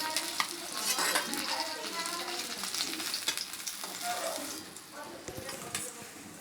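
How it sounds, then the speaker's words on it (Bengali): Fish fries in hot oil, a dense close sizzle with occasional utensil clinks against the pan, while faint speech-like sounds mix into the background. "মাছগুলো আমার ভাজা হয়ে গেছে।"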